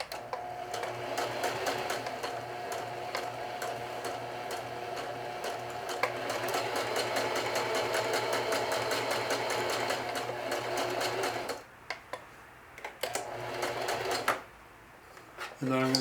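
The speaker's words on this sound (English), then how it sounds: "trying to avoid going off the edge of the cloth with the zigzag stitch" Domestic sewing machine running a zigzag stitch across the edge of a cloth watch pocket, a steady rapid mechanical whirr for about eleven seconds, then short stop-start bursts and a final restart, with a voice speaking over it.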